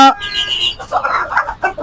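Chickens clucking close by, a busy cluster of short, bright calls running throughout with no talking.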